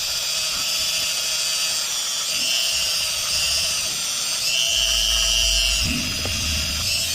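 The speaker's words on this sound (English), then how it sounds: "Take your little Dremel." A small Dremel rotary tool polishing Glock FRT parts gives a steady high-pitched whine that holds throughout, with a low rumble of contact near the end and no talk over it.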